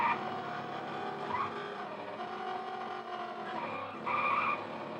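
Racing sounds from the PlayStation port of San Francisco Rush: a steady, thin, buzzy car engine drone runs throughout, with tire skids and squeals breaking in near the middle and toward the end.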